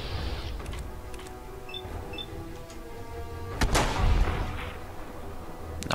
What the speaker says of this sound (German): so ein komischer 10mm Schuss